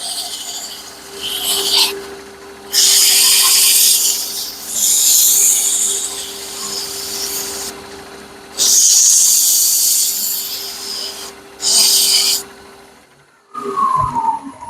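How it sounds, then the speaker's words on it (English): Bursts of 120 grit sandpaper rubbing the edge of a wooden peppermill, several loud raspy strokes separated by quieter pauses with a steady hum beneath, ending with a knock and a brief squeak. "Take some 120 sandpaper and just clean up that edge,"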